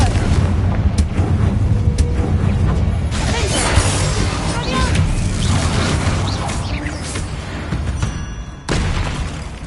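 In Hogwarts Legacy, the Confringo fire spell bursts against barricades with booming, crashing impacts and shattering debris, several blasts in succession amid ongoing game ambience.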